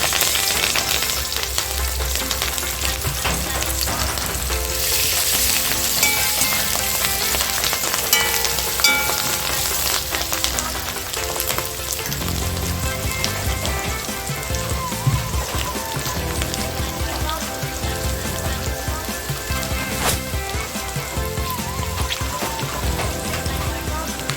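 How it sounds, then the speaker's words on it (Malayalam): Ginger, garlic, green chilli and curry leaves frying in hot oil for an okra pickle, giving a loud, continuous crackling sizzle that stays steady throughout with no talking. "ഇനി ഇതിലേക്ക് നമുക്ക് എടുത്തു വെച്ചിരുന്ന നമ്മുടെ ഇഞ്ചിയും വെളുത്തുള്ളിയും പച്ചമുളകും വേപ്പിലും എല്ലാം കൂടി"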